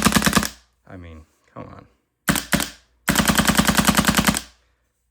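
Planet Eclipse Nexus/DC2 Autococker paintball marker firing at about 300 fps, in rapid close bursts of evenly spaced sharp pops, with someone speaking briefly between the strings of shots.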